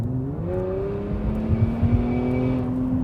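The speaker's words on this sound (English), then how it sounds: "when you're accelerating that there is definitely a lot of turbocharger whistle" A 2020 Infiniti Q60 accelerates steadily with a rising whine layered over the rumble, a thin high turbocharger whistle running through the middle of the pull.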